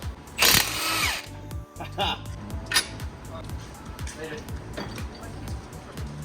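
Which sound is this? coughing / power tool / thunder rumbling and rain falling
power tool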